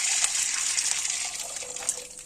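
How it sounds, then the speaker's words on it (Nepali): Water gushes steadily into a cooking pan for maize-flour dhido, a continuous close pour with no talking. "अब पानी लगाउनु पर्छ।"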